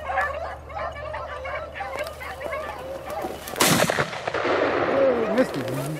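A sharp gunshot cracks out midway through a beagle rabbit hunt, preceded by a pack of beagles baying and yipping at a distance; the hounds keep giving voice after the shot.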